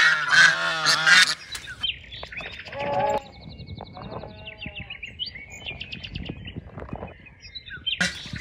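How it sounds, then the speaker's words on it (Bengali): Geese and ducks honk loudly up close on a farm while small birds chirp and twitter throughout, with scattered calls layered over a busy, continuous backdrop of birdsong. "পাখির কিচিমিচি সাউন্ড শুনেন আপনারা"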